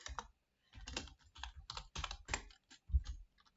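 Typing on a computer keyboard while playing a Roblox horror game, a quick irregular run of close, quiet clicks and taps in bursts with short pauses between them.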